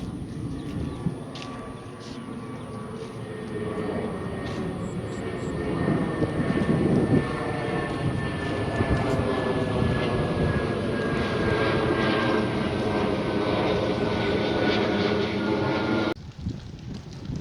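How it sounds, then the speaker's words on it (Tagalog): A fixed-wing airplane passes overhead with a sustained engine roar that swells in the middle and then fades. The sound stays loud and continuous, and no one speaks over it. "Uy, may aeroplano dun, oh."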